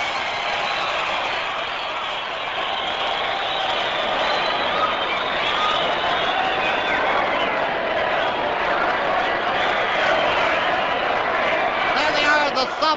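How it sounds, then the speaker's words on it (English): A large crowd at the 1974 All-Ireland Football Final between Dublin and Galway chants for Heffo, a steady, dense roar of many voices that continues unbroken and fairly loud. "They're chanting, "We want Heffo!""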